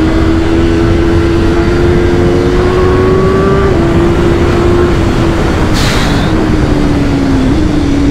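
A BMW S1000R motorcycle engine accelerating, a loud, close, continuous roar whose pitch climbs steadily with a couple of shift drops, under heavy wind rush.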